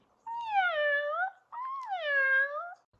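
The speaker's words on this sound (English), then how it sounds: "I see a purple cat, meow, looking at me." A cat gives two long, drawn-out meows, clear and close with a short pause between them and no other sound.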